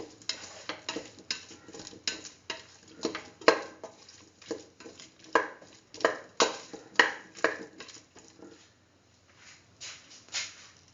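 A spoon stirs chili powder into food in a pan, producing a steady series of scraping, clinking strokes against the metal, close and distinct, with faint sizzling beneath and no talking.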